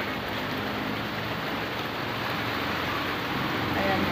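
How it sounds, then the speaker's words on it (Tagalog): Heavy rain pours down in a steady, dense hiss that stays loud and unbroken throughout, with no pauses or individual drops standing out. "Ayan, tuluyan na pong umulan. Umulan na ng malakas."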